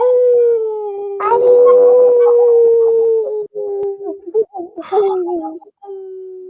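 A man imitates a dog's howl with his voice, a long sustained wavering tone held for several seconds, close and loud, with brief noisy bursts and trailing off at the end.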